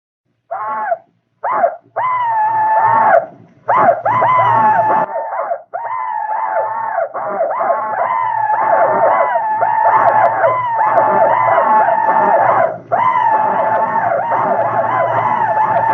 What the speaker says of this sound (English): And now you will hear the emulated sound of a Confederate company of troops as it charged across